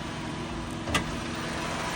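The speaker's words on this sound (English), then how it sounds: "See now, silent engine, tempered engine and gear." A 2014 Toyota Camry SE Sport engine idles as a steady, smooth hum with a faint brief click near the middle, no talking.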